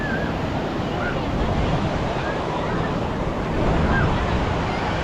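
Ocean waves wash steadily onto a seashore, a dense, constant roar of surf with wind rumble, close and loud throughout with no clear breaks.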